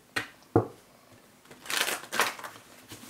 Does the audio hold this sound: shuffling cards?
yes